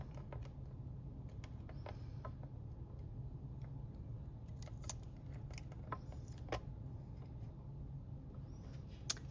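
Scissors snip faintly and irregularly during a craft cutting session, quiet clicks over a steady low hum.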